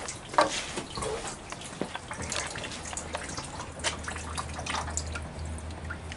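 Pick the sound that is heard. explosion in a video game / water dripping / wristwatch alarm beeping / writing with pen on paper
water dripping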